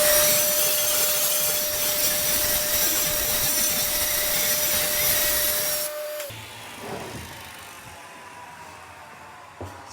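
Saw blade cutting slots in wood for a pantry build, a loud, sustained high whine and rasp of the cut that stops abruptly after about six seconds, leaving quieter shop noise and a final small knock.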